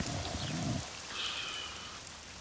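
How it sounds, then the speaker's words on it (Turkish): Heavy rain falls in a steady, broadband wash that stays loud throughout. A low rumbling sound comes in near the start. "Demek bahsettikleri şiddetli yağmur buydu."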